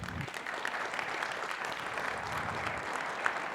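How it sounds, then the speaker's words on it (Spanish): Audience applause during a weekly political assembly, a steady, fairly faint wash of clapping that holds evenly throughout with no voices on top. "eso hay que aplaudirlo, compañeras y compañeros"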